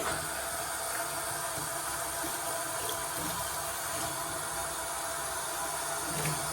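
A steady, even rush of water running from a tap during a water test in a home plumbing job, constant and unbroken throughout with no voices.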